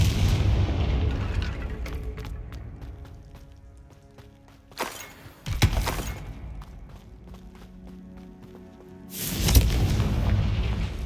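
Confringo blasting spell in the video game Hogwarts Legacy: several heavy explosion blasts with rumbling tails, separated by quieter stretches of game ambience.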